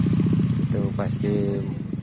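Motorcycle hauling oil palm fruit up a steep, slippery slope, its engine chugging loudly and close with a rough, pulsing idle while people talk over it.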